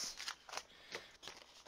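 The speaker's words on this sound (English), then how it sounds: "I'm going to use my scissors." Scissors cut paper in a quiet room for an art journal page, giving four or five short, crisp snips in quick succession, close and soft with no speech.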